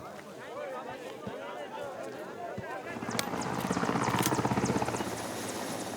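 A Red Cross (ICRC) helicopter's rotor and engine drone steadily at an unloading site, growing louder and more rhythmic midway through, with voices and background noise underneath.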